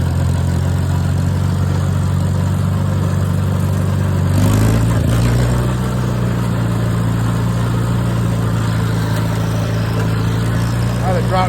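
An IH Farmall tractor engine chugs in a steady low drone while mowing an overgrown field, its tone shifting briefly around the middle before settling back into an even, continuous rumble.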